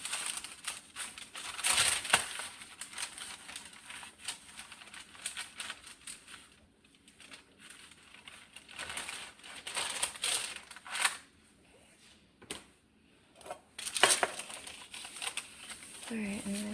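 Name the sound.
parchment paper crinkling as sourdough dough is placed on it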